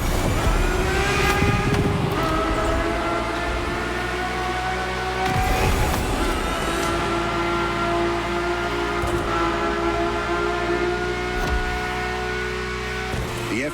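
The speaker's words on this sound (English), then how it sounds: "The F50's core is a normally aspirated V12 that came straight from a Formula One." A Ferrari F50's normally aspirated, Formula One–derived V12 engine revs loud and close through gear changes, its sustained high-pitched wail rising and falling with sharp shifts.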